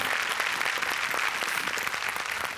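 Sustained applause from a big studio audience at a Marathi TV comedy show, many hands clapping loudly together, with a few sharper individual claps standing out from the steady roar.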